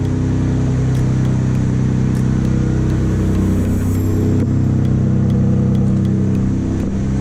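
A Mitsubishi Galant VR-4 idles loudly through a test pipe, with a raspy, droning exhaust rumble, steady and close throughout.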